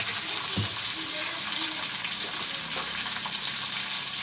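Cumin and coriander seeds fry in a pan alongside green chillies, a steady soft sizzle with light stirring scrapes throughout, fairly quiet and even.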